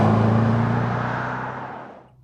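A Maserati 3200GT engine revving hard as it climbs through the gears, a loud, close, steady roar that slowly eases and tails off at the end.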